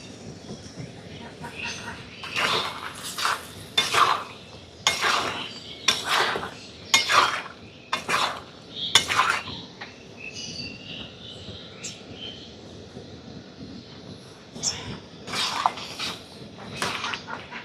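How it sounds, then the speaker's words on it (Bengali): Strained jaggery is added bit by bit to raw mango pickle in a pan, giving a series of sharp metallic clinks and scrapes of a spoon against the pan, with faint background noise between strikes. "এবারে ছেঁকে রাখা গুড়টা দিয়ে দিচ্ছি, অল্প অল্প করে দিয়ে দিতে হবে।"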